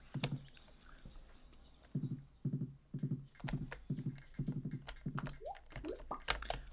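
Rhythmic hoofbeats of a horse in the video game Stardew Valley clop in steady pairs, a quick galloping pattern that stays close and clear with no voices.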